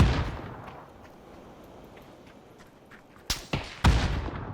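Gunfire in an online battle-royale shooter game: a faint, distant rumble of shots, then a few sharp loud reports close together near the end, with no talking.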